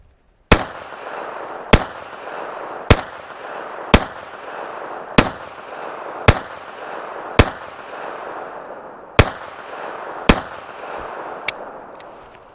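Beretta 3032 Tomcat pistol fired outdoors in a slow, evenly spaced string of about eleven loud, sharp shots, each ringing briefly before the next, with no talk.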